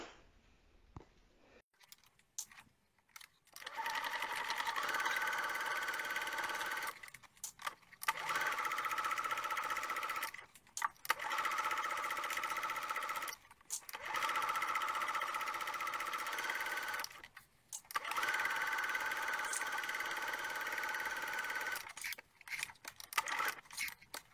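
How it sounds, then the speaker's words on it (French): A sewing machine stitches all the way around the edge of a foldable fabric bag, running in four long steady bursts separated by short pauses, close and clear with no talking. "on vient coudre tout le tour en laissant une petite ouverture pour pouvoir le retourner"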